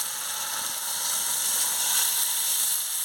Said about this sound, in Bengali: এবার আমি পরিমাণ মতন জলটা দিয়ে দিচ্ছি।